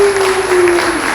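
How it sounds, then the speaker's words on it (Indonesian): Brief burst of audience clapping at an indoor training session for communicators, a short steady patter of hands at close range with a faint tonal hum running beneath it. "tepuk tangan semuanya"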